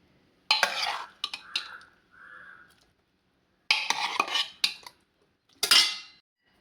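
A spoon scrapes and clanks against metal pots while moving mashed pumpkin, raw banana and red cowpea for a Kerala erissery curry into another vessel, in several short close bursts separated by quiet gaps.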